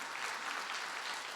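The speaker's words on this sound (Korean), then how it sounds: "11명 박수 치고." Dense applause from a church congregation at a testimony gathering fills the moment, a steady, even wash of many hands clapping at once.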